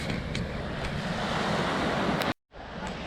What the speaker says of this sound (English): that's Macau's beach right there